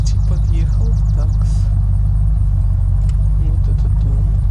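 A car's engine in the video game Unturned drones as a continuous loud low rumble while driving, with faint chirpy background sounds layered over it.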